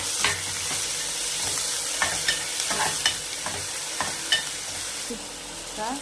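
Tomato and coriander being stirred into frying onion in a pan for a Khandeshi-style cluster bean curry, a steady sizzle with repeated scraping spoon strokes, close and fairly loud, no talking.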